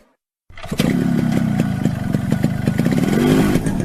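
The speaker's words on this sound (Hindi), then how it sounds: "Sit on my motorcycle." Motorcycle engine starting abruptly after a moment of silence, then idling and revving loudly with a steady clattering pulse, close by and alone without talk.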